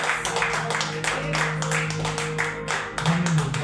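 A church congregation at a Sunday family service claps in a dense, continuous burst, with distinct hand strikes over sustained keyboard chords and a voice briefly rising near the end.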